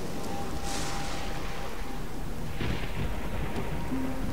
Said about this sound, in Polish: Po uderzeniu pioruna, tak?